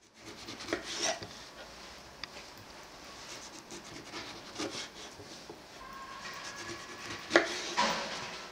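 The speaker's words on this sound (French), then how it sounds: "Et là, vous allez vraiment peler à vif." Knife peeling a clementine down to the flesh, producing soft scraping, rubbing and cutting sounds in short bursts, close and fairly faint, with no talking.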